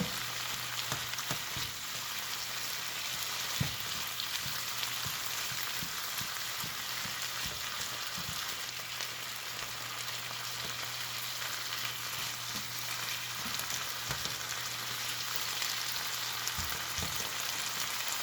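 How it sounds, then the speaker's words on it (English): Chicken, peppers and onions frying steadily in a pan for a Philly cheesesteak, giving a continuous soft sizzle with a low hum underneath and a few faint utensil taps scattered throughout. "We're gonna let that continue to cook down."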